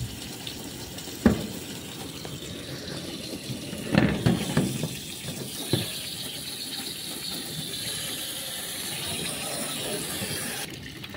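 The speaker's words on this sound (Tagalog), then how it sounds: "Sige akong isprayhan ning niang diri sa iyang kilid ha." Water from a hose sprayed along the side of a house roof to locate a leak, a steady broadband hiss of spray with a few louder splashes and knocks partway through, no talking.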